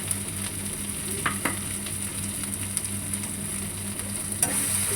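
Spice paste with garlic fries in a pan for a fish curry, giving a continuous close sizzle with a few sharp scraping stirs and clinks; no one speaks.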